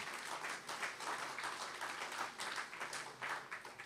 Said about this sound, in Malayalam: നല്ലൊരു കയ്യടി കൊടുക്കാം പ്രിയപ്പെട്ടവർ